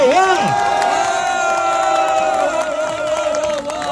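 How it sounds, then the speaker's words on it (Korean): A crowd at an outdoor civic group's press conference and hunger-strike relay shouting and cheering loudly, with sustained voiced whoops and rising and falling calls close by, and scattered clapping mixed in. "여기 계신 분들한테 박수 한번 보내주십시오"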